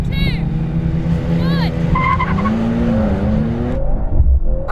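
Mercedes-AMG C63 accelerating hard off the line in a standing quarter-mile drag race against a BMW M and an Audi RS, engine note rising steadily with some tire noise, heard close from inside the car, with excited talk over it.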